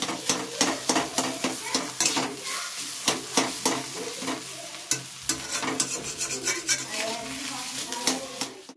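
Potatoes frying in a pan, with repeated sharp scraping and clattering strokes of a spatula against metal over a steady sizzle, close and fairly loud, with no voices.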